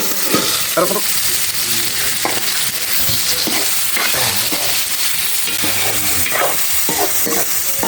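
Insects frying in hot oil, giving a steady, bright hiss and sizzle throughout, with stirring clatters and scrapes close by.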